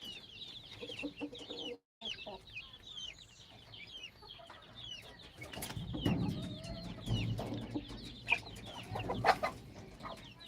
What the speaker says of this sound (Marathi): शेतकरी मित्रांनो गावरान कोंबडी ही गवत पण सहज खाऊ शकते